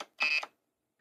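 A single short electronic keyboard tone beep from a Kinesis Advantage2 keyboard sounds once, brief and clear against silence.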